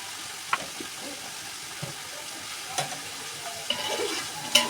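Coconut goes into a pan of sizzling masala spiced with cinnamon and cloves, giving a soft, steady frying hiss with a few light stirring scrapes and clinks close by.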